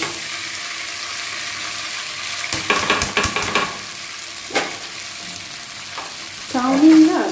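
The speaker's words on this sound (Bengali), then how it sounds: "এবারে যেটা করবো সেটা হচ্ছে চাউমিনটা এর মধ্যে দিয়ে দেবো" Chowmein noodles hitting hot white oil in a wok for egg chicken chowmein, a loud burst of frying sizzle with stirring and scraping, then crackling toward the end, no talk.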